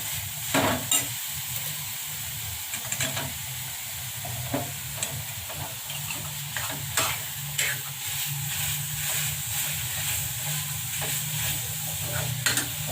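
Sweet modak filling made with jaggery sautés in ghee, giving a steady close sizzle and hiss. A spoon stirs and scrapes against the pan in repeated strokes, with no talking.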